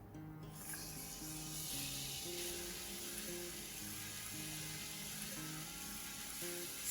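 Finely chopped tomatoes hiss and sizzle steadily in a hot pan for tomato chaat, a continuous close frying noise with faint background tones and no talking.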